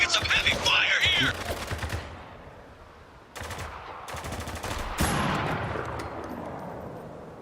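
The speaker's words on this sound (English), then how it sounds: "We're taking some heavy fire here!" Heavy video game gunfire: rapid automatic bursts, loudest at the start, then a pause and further volleys of shots, with echoing fire trailing off.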